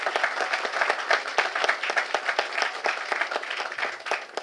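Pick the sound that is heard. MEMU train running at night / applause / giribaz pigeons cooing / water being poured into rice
applause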